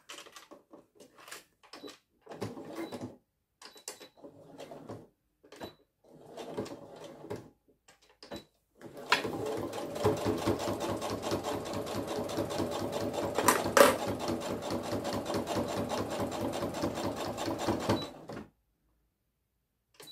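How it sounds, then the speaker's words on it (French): A sewing machine topstitches beside a zipper on a lined rectangular pouch. Scattered handling clicks and rustles come first, then the machine runs in a steady rapid whir for about nine seconds before stopping. "Et maintenant, on va faire une surpiqûre de chaque côté."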